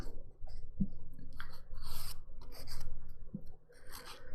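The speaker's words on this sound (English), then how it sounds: "you'll just end up filing it sharp anyway" A nail file rasps back and forth on dip powder nails in a steady run of short, close scrapes during a gray-and-purple foil manicure, with no talking.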